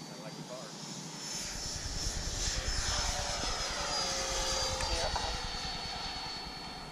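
A Freewing F-22 Raptor RC jet with electric ducted fans spools up for takeoff, rising into a loud, steady high-pitched whine with a slight pitch shift, while voices talk nearby.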